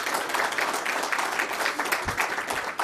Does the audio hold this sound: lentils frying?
no